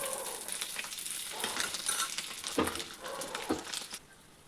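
Ridge gourd and egg curry sizzling in an AMC cookware pan as it is stirred, a steady frying hiss broken by several scraping strokes of the spoon.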